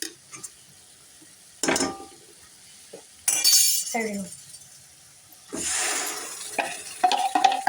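Chopped vegetables for pav bhaji are tipped into a pan and stirred, giving bursts of clinking metal and scraping separated by quieter pauses, close and fairly loud.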